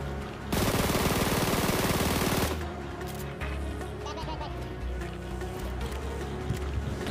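Dense burst of rapid automatic gunfire in the PUBG Mobile battle royale shooter, loud and continuous for about two seconds, followed by quieter scattered shots and ambient game noise.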